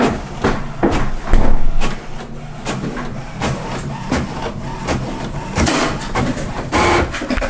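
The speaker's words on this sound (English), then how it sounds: "gonna try the scanner" An HP Officejet Pro 8025e printer-scanner runs a scan, giving a close, steady mechanical whir broken by repeated clicks and clunks from the moving carriage, with no talking.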